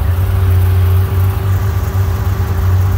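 A 2015 Chevrolet Camaro with a Texas Speed 223 LSA camshaft and headers runs at a steady, loud idle up close, its deep choppy rumble continuing evenly with no voices.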